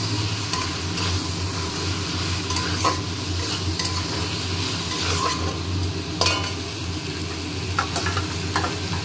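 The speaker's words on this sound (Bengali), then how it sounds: "মশলা কষার সঙ্গে এবার আলুটাও দিয়ে দেবো।" Spice paste and fried potatoes stirred in a pan, with a steady close sizzle and a spoon or spatula scraping now and then.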